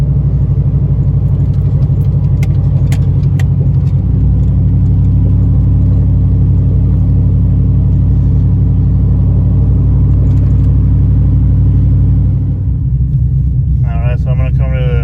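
A car with a swapped 6L80 automatic transmission drives along, a steady low engine rumble and drone throughout with a few faint clicks, changing near the end as a voice briefly speaks.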